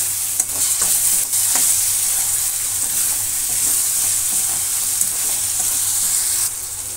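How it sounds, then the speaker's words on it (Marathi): Green peas are sautéed and stirred in a pan, giving a steady, close hiss of frying with faint scraping stirs throughout and no speech. "आता आपण याच्यामध्ये वाटाणे घालणार आहोत। तेही आपल्याला परतून घ्यायचे आहेत।"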